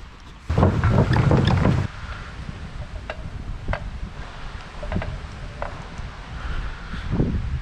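Bicycle ridden outdoors, with sporadic faint crackles and ticks from the drivetrain while pedaling over a low rolling background and a loud rustle near the start.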